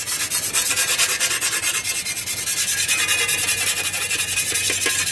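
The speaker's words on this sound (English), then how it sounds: "take your file or your stone or whatever you're using on the other hand to sharpen with" A Lansky sharpening stone rubs quickly back and forth along the edge of a garden tool blade, producing loud, close, rhythmic rasping strokes at a fast even pace with no talk.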